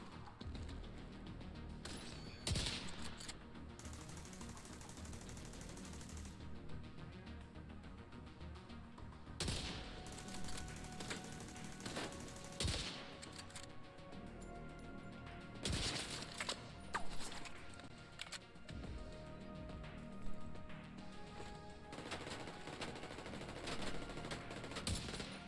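Sustained video-game gunfire in The Division 2 boss mission against James Dragov, with bursts of automatic fire and sharp shots repeating across the whole stretch, mixed with impacts and mechanical clatter at steady loudness.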